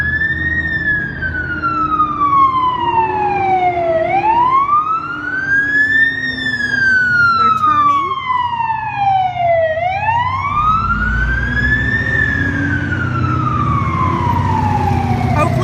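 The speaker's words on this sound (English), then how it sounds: "There's a fire engine." A fire engine siren wails, rising and falling in long, steady sweeps, loud and continuous, over the rumble of downtown traffic.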